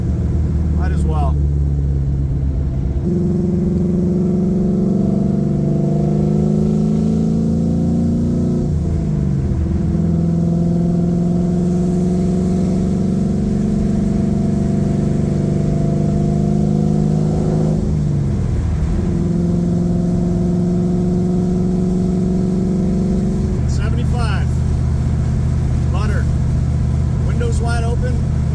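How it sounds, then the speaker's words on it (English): A pro touring 1969 Camaro with a freshly built engine roars at wide open throttle from inside the car. The loud, steady engine note climbs and drops through several gear changes. "Wide open, not too loud."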